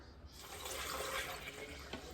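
Water pours steadily into a cooking pot for a spicy shrimp and brown rice dish, a brief, faint, continuous rushing splash without pauses.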